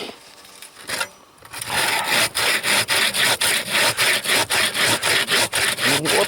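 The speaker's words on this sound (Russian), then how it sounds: "За толстую сторону берем и пробуем пилить" A hand saw cuts through wood outdoors in the frozen taiga at around -50 degrees, a brief quiet pause and then steady, loud rhythmic strokes, about a dozen regular back-and-forth rasps close by.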